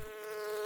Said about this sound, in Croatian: Drage pčele, sad ću uzeti malo meda od vas.